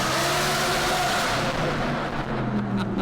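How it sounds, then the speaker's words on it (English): A Lamborghini Huracan LP610-4 engine roars loudly and continuously, its pitch stepping and shifting as it downshifts, with crackling pops near the end. The sound is close and dense and there is no talking. "The downshifts are good."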